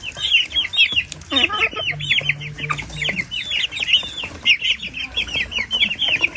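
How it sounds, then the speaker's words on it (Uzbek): Japanese hens and roosters cluck in a dense, steady chorus of overlapping calls, close and fairly loud, with a few sharper squawks and brief wing flaps mixed in. "Bu yapon tovuq keldi. Mana bitta yapon tovuq bosib yotibdi."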